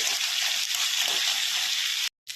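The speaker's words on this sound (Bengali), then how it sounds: "কাঁকড়াটাকে একটু ভালো করে ভাজতে হয়, ভেজে পর্যন্ত ভাজতে একটু সময় লাগবে।" Crab frying in hot mustard oil gives a loud, steady close-up sizzle that runs unbroken for about two seconds, then cuts out briefly before resuming.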